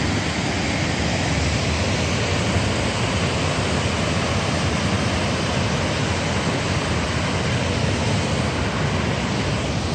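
A constant, dense roar of falling water at Salmon Falls in Shelburne Falls, Massachusetts, loud and unbroken throughout, with no voices.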